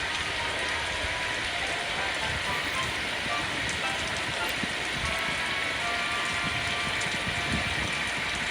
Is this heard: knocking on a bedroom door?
no